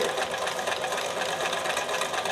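A home sewing machine stitching steadily on its own, its motor and needle making a continuous fast mechanical whir with no voice over it.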